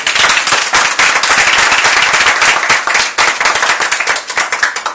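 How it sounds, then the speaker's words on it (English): An audience applauds participating artists at a Nigerian contemporary art event, with dense, steady hand clapping that stays close and loud for the full stretch, with no voices over it. "Let's give all of our participating artists a round of applause and acknowledgement."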